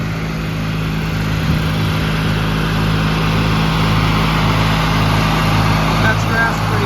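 A Ford YT16 lawn tractor mows grass with its belt twisted and barely hanging on, a loud steady engine drone with a low hum that runs throughout, up close.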